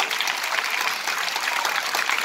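An audience at an Independence Day celebration in Satpur claps for teachers, a dense, even burst of applause that runs throughout.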